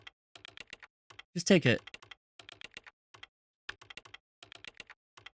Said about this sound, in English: I was mesmerized by the musicality of the keyboard here.